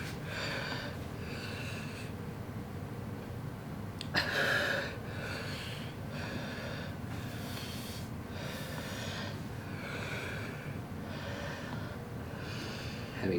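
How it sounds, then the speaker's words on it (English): Heavy, strained breathing with gasps and wheezy snorts from a person struggling after eating very hot sauce, repeating in rough rhythm close to the microphone with no talk. "Having trouble breathing."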